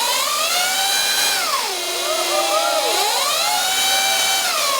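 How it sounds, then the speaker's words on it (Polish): Electric road motorcycle built by students at Wrocław University of Technology, its motor giving a loud, steady high-pitched whine that drops in pitch midway and then climbs again, with no voices. "Tak brzmi silnik pierwszego elektrycznego motocykla szosowego, który wyszedł spod rąk studentów Wrocławskiej Politechniki."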